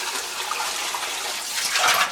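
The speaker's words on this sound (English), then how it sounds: "Stick it right in the water. We can hear it bubbling." Air bubbles out of a hose end pushed into water while bleeding a heating pipe, a continuous close gurgling burble that surges briefly near the end.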